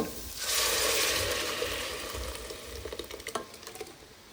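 Ground sambar masala fries in a pan, starting with a loud hissing sizzle that gradually fades, then gives way to a run of quick bubbling pops and stirring clicks.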